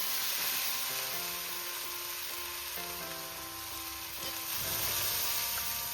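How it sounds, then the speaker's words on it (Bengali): Spice masala with chopped tomato frying in a pan for Bengali egg curry, giving a steady, close sizzle with crackling throughout and a few faint tonal clinks, with no talking. "এবার আমি ভালো করে মশলাটাকে কষিয়ে নেবো।"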